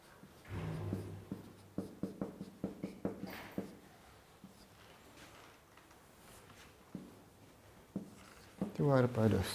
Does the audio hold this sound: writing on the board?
yes